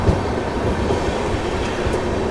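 A moving passenger train on the main line near Vadodara, heard from inside a carriage: a steady, loud rumble of wheels on track with faint rhythmic clatter throughout, and no voices.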